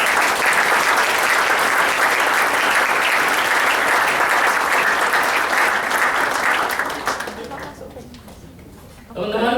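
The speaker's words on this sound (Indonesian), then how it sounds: "kita tepuk tangan dulu buat Dokter Danu." Applause from an audience at an Indonesian company event, dense loud clapping sustained for about seven seconds before thinning and fading out.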